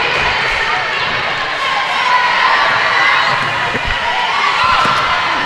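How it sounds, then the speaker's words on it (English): Crowd roaring and cheering in a gym at a high school girls' basketball game, a loud, continuous din of voices with scattered thuds, with an announcer talking over it. "As you can hear, Panther crowd is roaring to life."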